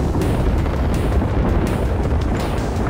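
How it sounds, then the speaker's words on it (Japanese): Ultimate ability explosion in the battle royale game Apex Legends, a dense, loud rumbling blast that fills the whole stretch with sustained low booming and crackle, no voices over it. "一回ウルトが爆発する。"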